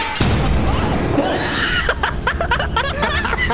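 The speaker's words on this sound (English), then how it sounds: "You did a massive explosion. I didn't know that was a mine!" A mine in the game Lethal Company goes off with a sudden loud boom that rolls off, followed by excited laughter and chatter from several players.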